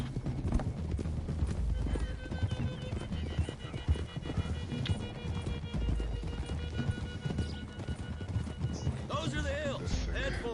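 Horses gallop in Red Dead Redemption 2 with steady clip-clop hoofbeats and occasional whinnies, running continuously under game music and a speaking voice.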